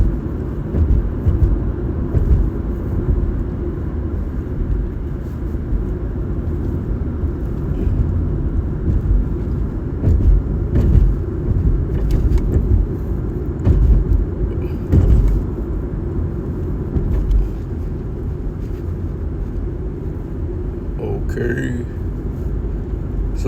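A car driving along a road gives a steady low engine and road rumble throughout, with a person talking over it.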